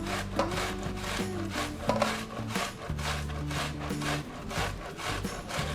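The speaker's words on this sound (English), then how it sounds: "I'm using the coarse grating on the box grater." Onion grated on the coarse side of a box grater, repeated scraping rubs in an uneven rhythm, close and fairly loud, with faint tonal background music beneath.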